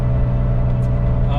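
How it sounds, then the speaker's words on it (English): Steady gear whine from a vintage Porsche 911 transmission held in 4th gear, a constant tonal drone over engine and road noise inside the moving car, with no talk. "the gear whine is basically not supposed to be there"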